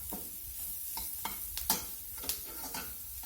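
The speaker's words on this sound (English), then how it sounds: "That trinity's been sauteing there about 5, 6, 7 minutes" Celery, bell pepper and onion sauté in a roux base for shrimp étouffée, a soft sizzle with a series of quick scraping stirs and clinks against the pot.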